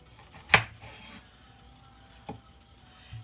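A knife cuts through an onion on a cutting board for potato soup, giving one sharp chop, a short scraping rustle, then a second fainter chop and a soft knock near the end, with quiet room tone between.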